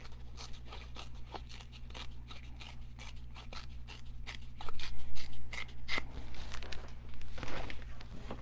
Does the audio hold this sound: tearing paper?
yes